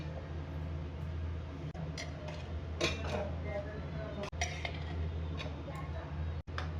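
Boiled peas being stirred into a spice masala in a pan for vegetarian ghugni, soft scraping and clinking of a spoon against the pan with a few sharper knocks, steady and close.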